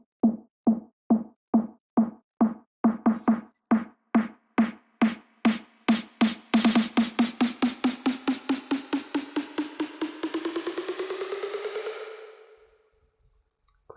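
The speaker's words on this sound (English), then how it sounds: "the reverb technique I do is I add a fruity reverb onto the snares" Build-up snare hits with automated Fruity Reverb, starting as sparse evenly spaced hits and accelerating into a rapid roll whose reverb tail grows brighter and washier, then fading to silence.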